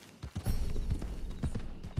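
A horse's hooves clip-clop at a walk in Red Dead Redemption 2, a handful of soft, uneven hoof strikes, fairly quiet and close, with no talking.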